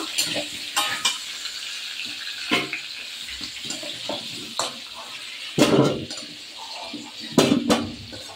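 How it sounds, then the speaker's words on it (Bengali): Potatoes fry in oil until reddish-brown, a continuous sizzle broken by louder scraping and stirring bursts at irregular intervals, with no talk. "আলুটা আমার লাল লাল করে ভাজা হয়ে গেছে।"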